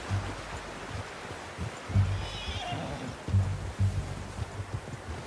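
A horse whinnies in Red Dead Redemption 2, a single brief neigh rising midway through, fairly faint beneath a low rumbling game ambience with rustling and soft thumps.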